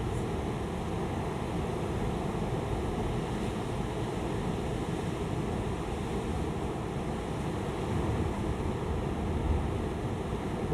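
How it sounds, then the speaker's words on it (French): Ocean waves roll in on a wild stretch of the Scottish coast, a continuous broad roar of surf mixed with wind buffeting the microphone, loud and steady throughout with no voices. "c'est au moment où je voudrais partir que les vagues arrivent."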